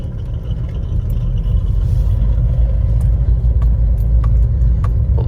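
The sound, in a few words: car engine with app-simulated Ferrari engine sound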